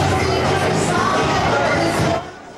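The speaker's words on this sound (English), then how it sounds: "this Eastern Market after dark had a huge crowd" Huge evening crowd at Eastern Market after dark, a dense continuous roar of many voices and bustle that holds steady and then drops away near the end, with food trucks and dancing nearby.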